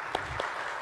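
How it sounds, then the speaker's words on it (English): Brief applause from a small concert audience at a Gaelic Americana show, a soft, continuous patter of clapping with a couple of sharper claps standing out. "So I think we should give them a big round of applause."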